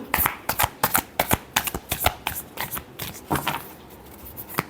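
Tarot cards being shuffled by hand, a run of quick crisp riffling and slapping bursts in an irregular rhythm, close and clear with no voice over it.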